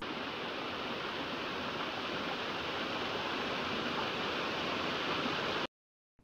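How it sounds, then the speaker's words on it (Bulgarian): Small waterfall beside a mountain trail, a steady broadband rush of falling water heard close and alone, cutting off abruptly near the end. "водопада според мен нито е много голям, нито е много атрактивен. Но все пак ето го и него."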